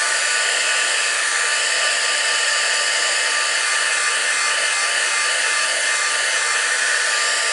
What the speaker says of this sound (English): a bit of heat and a bit of noise, and we will heat set these